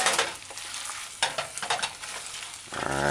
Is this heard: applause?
no